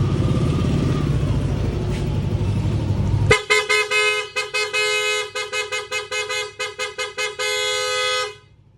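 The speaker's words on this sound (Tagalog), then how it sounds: "Okay, testingin natin yung busina. Ayan, maandar siya." A car horn honks in a rapid series of short blasts with brief gaps, then one long sustained blare, loud and close after a low rumbling start, during an alarm system horn test.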